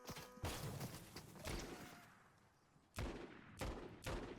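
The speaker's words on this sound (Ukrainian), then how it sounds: "Постріляй ще в мене тут. Постріляй, кому сказав." Gunfire from weapons in the Fortnite video game crackles in quick bursts, a volley near the start, another around one and a half seconds, then several sharp shots toward the end, with no talking.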